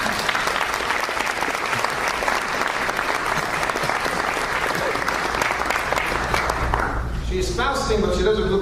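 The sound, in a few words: applause for a fasting girl at interfaith dinner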